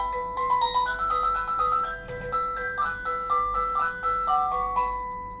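Tuya WiFi Diamond siren alarm WBJQ001 going off after a door is opened, a loud electronic melody of rapid chiming tones repeating steadily for several seconds.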